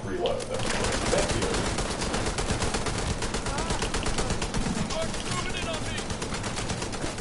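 Video game gunfire rattles in rapid, continuous bursts throughout, loud and close, with other game sounds mixed in underneath.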